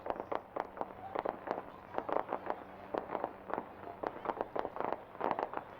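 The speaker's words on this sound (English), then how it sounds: "now you can hear the loud popping of the fireworks" Fireworks burst in rapid, irregular pops and cracks overhead at a night balloon glow festival above Albuquerque, sounding moderately distant and continuing in quick clusters throughout.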